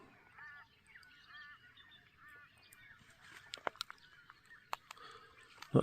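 Birds call steadily along a shore as the tide goes out on a mild morning, with repeated honking, goose-like cries at a moderate distance and a few sharp clicks and knocks near the end. No one speaks.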